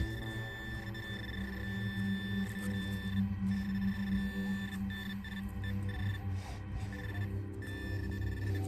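A Minelab metal detector used for digging relics outdoors emits sustained electronic signal tones, steady pitched beeping over faint background noise, with no clear speech.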